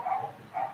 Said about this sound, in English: yo, you guys hear those dogs?